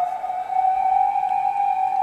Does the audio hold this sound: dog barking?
no